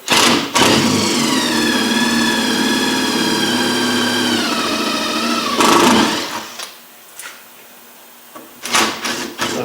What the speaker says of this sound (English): sometimes a drill will bite and pull the piece out.